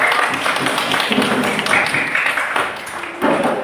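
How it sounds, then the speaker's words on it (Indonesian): Applause from a classroom audience at a teaching performance test, a dense stretch of overlapping hand claps at moderate level throughout, with some murmured voices mixed in. "tepuk tangan"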